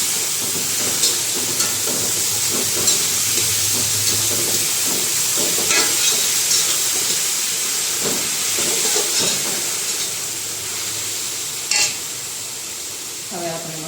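Spinach and potato curry is stirred in a hot pan, a steady steamy hiss and sizzle with faint intermittent scraping strokes and a louder clatter near the end, close and continuous.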